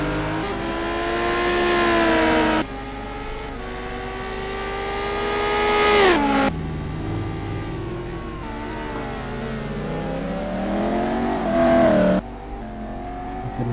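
Race cars from a sim racing game at Spa, including a Lamborghini and a McLaren, rev loudly and close, engine pitch climbing through the gears and dropping abruptly at each shift, with a few sharp cuts between onboard views.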